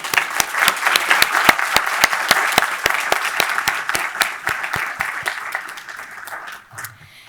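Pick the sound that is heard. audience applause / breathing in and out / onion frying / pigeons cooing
audience applause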